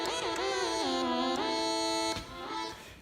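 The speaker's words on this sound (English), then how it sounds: "So here we have some reverb." A bright synthesizer tone glides between a few sustained pitches, its notes washing into a lingering reverberant tail, loud and alone without voices.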